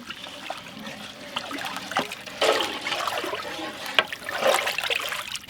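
Water is poured into a cooking pot while making Palestinian chicken maqlooba, a close trickling and splashing stream with a few clinks and louder gushes, no talk over it.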